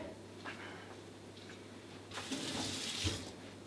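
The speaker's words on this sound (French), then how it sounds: "Je rince ma petite cuillère" A small spoon rinsed under a running kitchen tap while a seafood casserole is prepared, the water starting as a steady hiss about halfway through and continuing loud and close, with faint kitchen noise before it.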